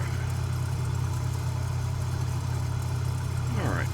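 Steady, loud drone of a Cessna 206H single-engine propeller aircraft in flight on the downwind leg at about 1,300 feet, continuous throughout with a voice speaking briefly near the end.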